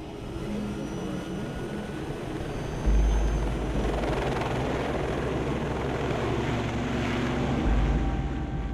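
Helicopter flying out to Perdido, a deepwater oil platform, heard from inside as a steady, loud rotor drone with low thumping and a broadband wash, without speech.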